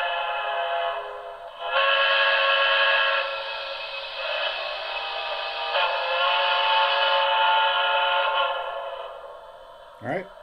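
A Broadway Limited model train's steam whistle, set to its second whistle option, sounds a long sustained multi-tone blast that swells and holds for several seconds, ending with a brief click.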